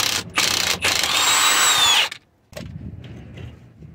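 A power tool or ratchet loosens a 14 mm brake line bolt on a 2003–2008 Toyota Corolla. It whirs loudly and steadily for about two seconds, cuts out briefly, then gives way to quieter clanking and handling noises, with no talk.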